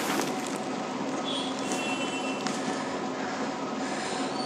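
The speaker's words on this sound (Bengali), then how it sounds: "পাতাল রেল" A Kolkata metro underground train runs with a constant loud rumble and rail roar, carrying a faint thin squeal of wheels and a few brief clanks over the steady noise.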